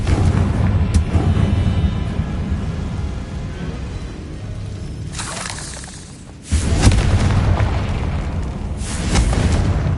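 Fiery spell blasts go off in a PS5 magic-school video game, with booming bursts and crackling debris over a rumbling backdrop, one big hit in the middle and another loud blast soon after.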